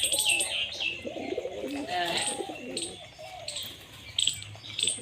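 A pair of home pigeons coo in a series of low rolling calls, with sharper chirps and a brief flutter of wings near the end, all fairly close.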